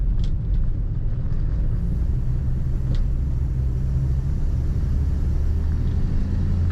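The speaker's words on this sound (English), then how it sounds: "This car started up and idled nicely right away with its straight 6 engine." A 1960 Mercury Comet with its straight-six engine driving, giving a steady low rumble from inside the cabin that stays even throughout, with no talk over it.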